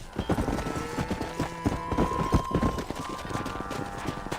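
Horse hooves gallop in Red Dead Redemption, a rapid steady clip-clop running throughout at moderate level, with a faint steady tone and game ambience underneath.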